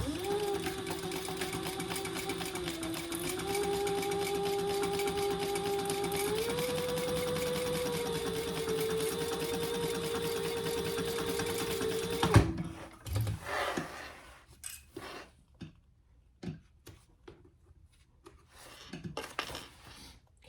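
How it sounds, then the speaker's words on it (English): A sewing machine runs steadily for about twelve seconds, top stitching a wristlet with a continuous loud mechanical whir that shifts pitch slightly, then stops, leaving faint scattered handling clicks. "1/8 inch top stitch for this."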